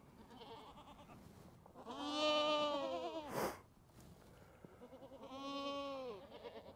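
A small farm goat bleats twice up close, each call a long, wavering cry with a short rustle between them, with no talking.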